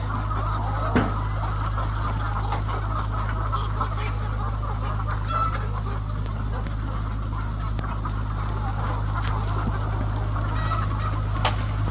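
Many free-range chickens cluck in the distance amid a constant low hum and outdoor background noise, with occasional sharper calls from the flock.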